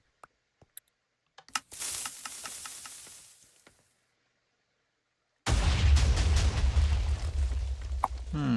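A TNT cannon firing in the Minecraft-style game TNT Wars: a few sharp clicks, then a crackling, sizzling fuse burst, a silent gap, and a loud, sustained rumbling explosion.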